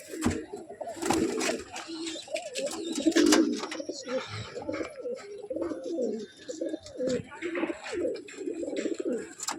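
Pair of Malbai pigeons cooing repeatedly in soft, rhythmic bursts close by, with faint chirps and light background noise throughout.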